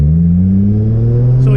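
A Nissan R32 GTR with an upgraded Brembo brake kit is driven hard during brake bedding: a loud, close engine drone whose pitch climbs steadily under acceleration, with no talk.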